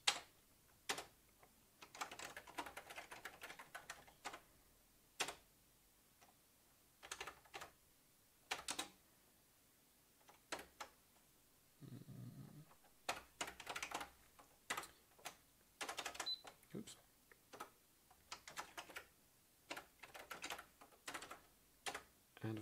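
Keyboard typing on a word processor, faint clicky keystrokes in short uneven bursts separated by pauses, heard close and quiet.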